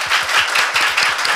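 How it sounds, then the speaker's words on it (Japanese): A Kyushu local-song audience gives loud, close applause, with dense rhythmic clapping that runs on steadily throughout. "大きな拍手をお願いします。"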